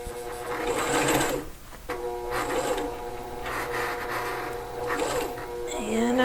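A sewing machine stitching fabric while sewing dimensional pieces, with a fast mechanical whir and rattle running in a few bursts separated by brief pauses, close and fairly loud.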